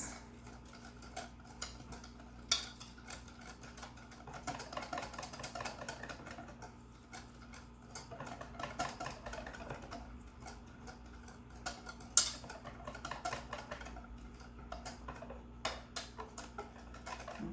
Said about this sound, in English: I like to use the whisk because it'll work out all of the lumps.